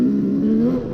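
A 2-stroke dirt bike engine drones close by with a steady buzzing tone whose pitch creeps upward briefly under throttle.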